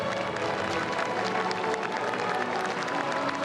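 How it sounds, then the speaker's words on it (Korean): Audience applause for special forces soldiers at an outdoor military demonstration. It is a steady, dense wash of clapping that holds at an even level throughout, with no voices standing out. "격려의 박수 부탁드립니다"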